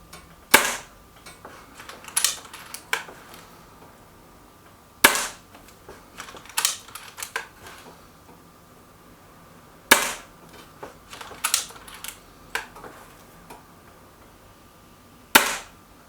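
A Stoeger XM1 Scout air rifle fires pellets at a target, producing four sharp, loud reports spaced roughly five seconds apart, with softer clicks and handling noises between shots and no talking.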